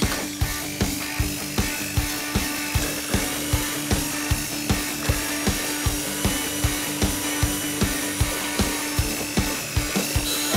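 Potatoes peeled with a tool, giving a steady rapid rhythmic rasping, scraping loop with regular pulses about twice per second, loud and close, with no talk.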